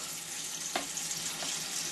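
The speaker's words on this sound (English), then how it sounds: "We're just going to soak it in water for now." Water runs steadily from a kitchen tap to soak strawberries, a constant hissing splash with a faint knock partway through, alone without talk.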